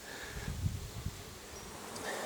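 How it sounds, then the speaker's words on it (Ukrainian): A honeybee flies about in mid-September, its faint, wavering buzz rising and fading close by over a low outdoor background. "бджола кудись активно літає, щось носить, приносить чи навіть виносить"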